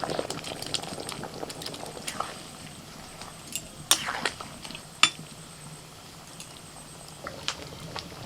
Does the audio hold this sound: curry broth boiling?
yes